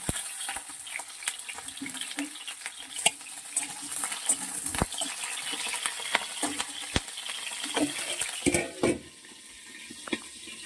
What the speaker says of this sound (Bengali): এদিকে বসিয়ে দিয়েছি ফুলকপি ভাজতে